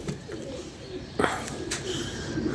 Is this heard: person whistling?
no